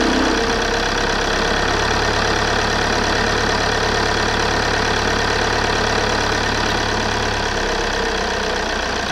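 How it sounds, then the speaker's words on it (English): A car engine runs at a steady, loud idle right up close, with a constant low drone and a continuous ticking knock throughout. The start itself is not distinct. "Now we can start the car up again."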